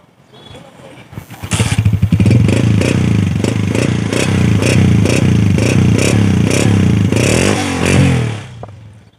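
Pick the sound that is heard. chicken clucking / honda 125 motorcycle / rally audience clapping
honda 125 motorcycle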